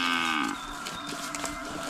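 A water buffalo on a rural farm gives a single drawn-out moo that fades within the first half second, followed by quiet ambient noise and a brief knock near the end.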